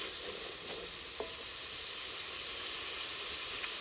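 Shrimp fry in a hot pan as red chili is tossed in, giving a steady, close sizzle and hiss with a few light stirring clicks on top.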